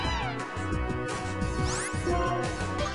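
A cat-like Pokémon's cry in Pokémon Black, a short electronic meow with rising and falling pitch, played over busy chiptune battle music and effects.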